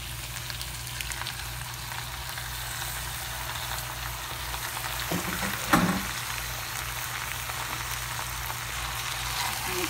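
Boneless dark turkey thigh meat frying in a pot for zharkoe, a steady low sizzle throughout with a brief louder burst and clatter as the meat goes in midway, no talking.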